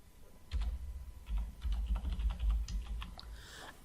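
A short burst of close keystrokes on a computer keyboard comes in quick, uneven clusters with brief pauses between them. The clip is fairly quiet and has no talking.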